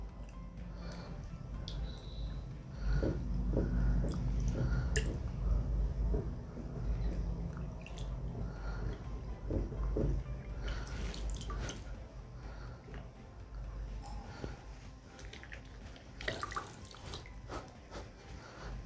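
Green grapes rubbed by hand in a bowl of water mixed with Atomy dish detergent, giving soft close splashing, dripping and sloshing that continues steadily with brief pauses.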